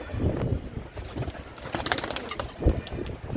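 A pigeon coos on a rooftop, soft low murmuring calls rising and falling with a stronger coo near the end, faint against a rustling background.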